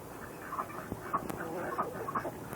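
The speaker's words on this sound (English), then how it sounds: "These are our ducks." Domestic ducks on a backyard poultry keeping, giving soft repeated quacks and clucks at a moderate distance, several short calls spread over a couple of seconds.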